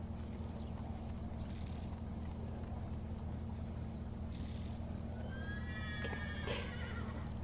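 Roach, the horse in The Witcher 3, lets out a loud whinny near the end, after quiet hooves plodding over a constant low game hum.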